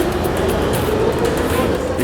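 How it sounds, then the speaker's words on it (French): A Brussels metro train runs underground, a loud steady rumble and roar that stays even from start to end, close and with no voices. "bienvenue dans le métro bruxellois"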